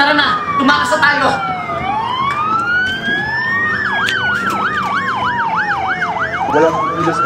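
Police sirens wail loud and close, one long sweeping rise and fall joined by a rapid yelping warble, layered over each other with shouting voices mixed in.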